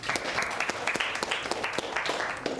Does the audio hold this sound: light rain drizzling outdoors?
no